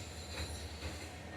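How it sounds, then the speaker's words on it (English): A train rolls past a Memphis hotel pool area, a loud steady rumble with rail squeal and a faint clatter, close by and continuous with no voices. "But here comes a train."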